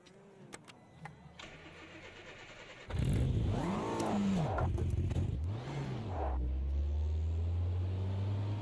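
Mini Cooper engine in the Automobilista 2 racing game starts up after a faint click, then revs in several rising and falling sweeps before settling into a loud, steady idle, close and alone without talk.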